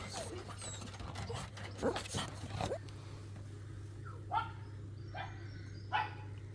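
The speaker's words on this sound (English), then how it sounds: "Crazy dogs." Several dogs barking in short excited bursts, some close and some a little farther off, with a steady low hum running underneath and brief whimpers between barks.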